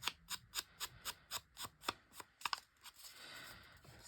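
Scissors snipping tracing paper around the edge of a cutout, a quick, even series of about a dozen crisp close-up cuts in a steady rhythm, followed by a few faster irregular snips and soft paper rustling.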